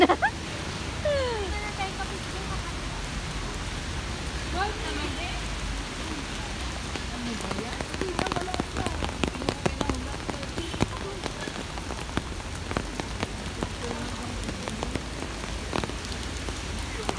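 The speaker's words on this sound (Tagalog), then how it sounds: "It's rainy day. Rainy day, Sunday." Steady rain patters on surfaces on a rainy Sunday, a continuous wash of drops heard close, with people talking at times.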